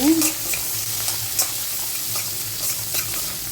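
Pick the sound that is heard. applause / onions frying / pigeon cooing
onions frying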